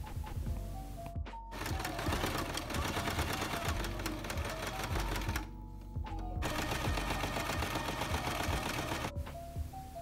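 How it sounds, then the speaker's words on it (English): A sewing machine runs in fast, even bursts along the pinned seam of a handmade dress, close and loud, pausing briefly twice before stitching resumes. "you're going to sew along where you pinned so everything is attached"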